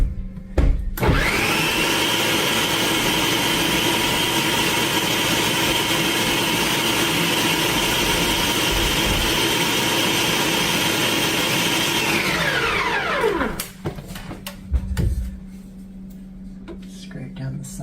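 A blender whirs steadily at high speed for about twelve seconds while blending a Dubai chocolate truffle mixture, then winds down and stops, with brief clatter around it and voices at the edges.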